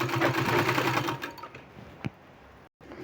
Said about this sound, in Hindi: इसको इस तरह से फोल्ड करके हमको इस तरह से इसमें सिलाई लगा देना है।